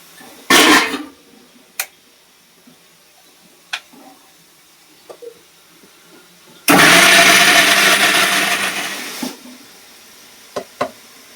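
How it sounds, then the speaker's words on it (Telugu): A kitchen mixer grinder blends green chilli, garlic and ginger. A short loud burst is followed by a few knocks, then a roaring grind of about two and a half seconds that fades as it stops. "మిక్సీ వేసేసుకున్నాము"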